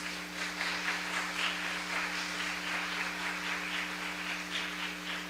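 A church congregation applauding together during a Pentecost sermon, a steady, dense wash of clapping that holds evenly throughout, with a constant low electrical hum running underneath.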